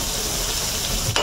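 Spinach pakoras fry in hot oil, giving a steady, loud sizzle that runs through the whole moment, with a brief stir or clatter near the end and no talking.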